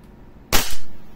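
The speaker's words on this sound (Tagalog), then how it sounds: "Firing." A WE Glock 35 airsoft pistol fires a single sharp, loud shot during a velocity test, standing alone after a quiet moment and trailing off in a short decay.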